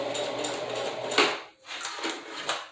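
A sewing machine backstitches a few stitches on a lace closure wig, giving quick close clattering bursts of needle action broken by short pauses.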